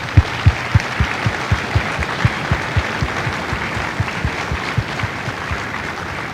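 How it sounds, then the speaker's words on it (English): An audience at a Marine Corps recruit graduation at MCRD San Diego claps steadily in sustained applause, with individual sharp claps standing out near the start before settling into a dense, even patter. "Please join me in a well-deserved round of applause for the drill instructors and families of Bravo Company."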